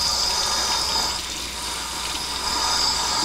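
Warm water runs steadily from a kitchen sink tap, a continuous close-up rush and hiss that stays even and unbroken throughout with no voices.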